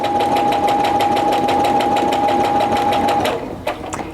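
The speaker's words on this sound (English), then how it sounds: "Now I'm just going to stitch down, again keeping the edge of the presser foot even with that line." Sewing machine stitching fabric along a marked line for a quilt block, a steady rapid needle rhythm with a constant hum, loud and close, slowing and stopping near the end.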